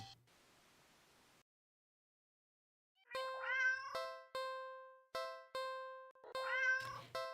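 Several distinct cat meows ring out clearly in the game Do Not Feed the Cats, with short repeated calls after a stretch of static hiss and silence, loud and close with no talking.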